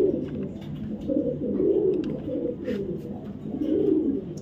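A male racing pigeon of Afsan Grizzle stock coos in low, rolling phrases that swell and fade over several seconds, close and fairly loud, with faint chirps from other birds behind.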